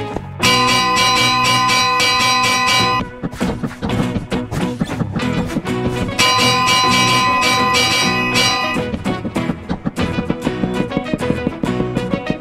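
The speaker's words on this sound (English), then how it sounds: "Next, I'll place a lot of bells over here." Many bells in Minecraft ring from a redstone clock, a dense run of bright metallic chimes that repeats in bursts with brief gaps, loud and continuous over about twelve seconds.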